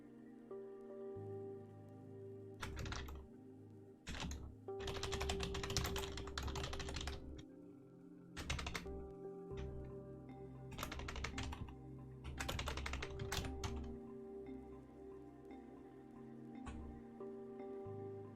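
Rapid, steady clatter of keys on a computer keyboard while code is typed, close and clear, coming in bursts with short pauses and a faint hum underneath.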